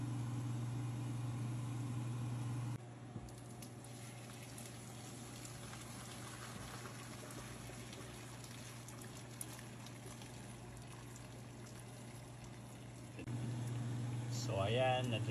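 Pot of water at a rolling boil with beef feet inside, a steady bubbling hum heard close and continuous, slightly louder at the start and end, with no talk over it.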